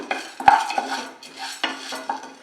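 Toor dal being dry roasted in a pan, stirred with a utensil that scrapes and clinks against the metal in short, close bursts, with a faint rustle of lentils between strokes.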